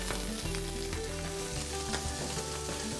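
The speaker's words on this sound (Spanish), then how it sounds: "que se rehoguen un poco en el aceite" Young garlic shoots sauté in olive oil with a steady, dense sizzle and crackle, plus a few soft stirring scrapes.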